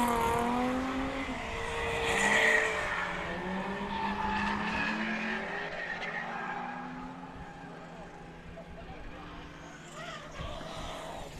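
A Mazda Miata drifts hard around a race track at a drift event, its engine wailing through sliding pitch sweeps and tires squealing at mid distance, easing off toward the end with crowd and commentary voices underneath.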